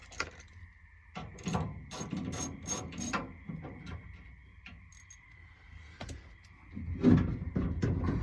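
Wrench work loosening the door adjuster bolts inside a 1967 Ford Mustang door, a run of close metallic ratcheting clicks and clanks with short pauses, then more rattling as the parts come free.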